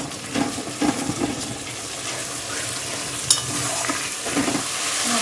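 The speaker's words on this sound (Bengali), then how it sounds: "মশলা ভাজা হয়ে গেছে" Spices and chilli paste fry in oil while a spoon stirs them, producing a steady sizzle broken by several soft scraping knocks.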